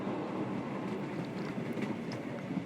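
Steady rumble of a train running through a Sherlock Holmes The Awakened game scene, with a continuous low-mid roar and faint higher clatter, constant and fairly close with no pauses.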